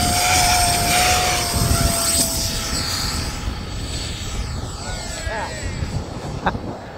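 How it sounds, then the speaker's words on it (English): A Jet Provost jet trainer flies a touch-and-go, with a loud, steady broadband jet roar and a high engine whine that shifts pitch as the aircraft passes, then eases slightly toward the end. "That was a touch and go."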